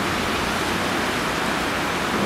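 The River Ogmore pours over a weir in a steady, loud broadband rush, a continuous roar of falling water with no break.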